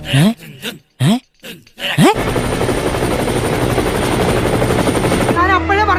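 After a couple of seconds of voices, a loud helicopter takes over, its rotor beating rapidly and steadily overhead, with a voice briefly returning at the end.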